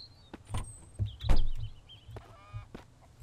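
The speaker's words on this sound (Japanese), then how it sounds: "あ、鶏がいるな。" A chicken in the survival video game Mist Survival gives a few short clucks and squawks over low, steady background rumble, fairly close and without speech.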